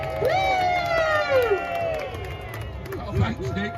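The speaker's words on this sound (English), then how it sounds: "Give him a big hand." Outdoor street crowd at a counter-protest cheers and applauds for a man named Roy, with shouting voices and whoops rising over steady babble, louder bursts near the end.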